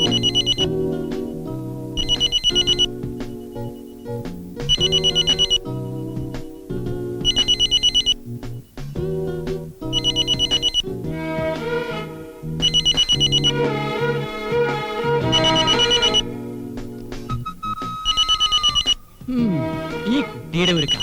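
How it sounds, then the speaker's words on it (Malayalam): A telephone rings in a home, its electronic ringtone repeating in regular loud bursts with short gaps, continuing for the whole stretch. "ദേ ഫോൺ അടിക്കുന്നു"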